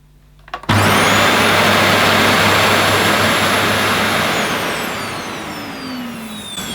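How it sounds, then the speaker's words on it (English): A Dyson DC28C Musclehead vacuum cleaner switches on with a click and rises into a loud, high whooshing whine, with a steady motor tone underneath. The roar eases slightly and shifts pitch toward the end. "let's plug it in, see how noisy this Dyson is."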